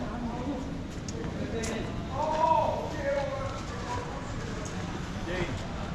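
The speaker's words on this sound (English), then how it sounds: "Cavalo." Horse hooves clip-clop on a paved lane in Macau's Travessa dos Tingidores, a steady street-level patter mixed with ambient crowd chatter and background voices.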